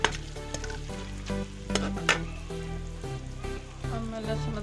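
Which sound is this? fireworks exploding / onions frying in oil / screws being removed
onions frying in oil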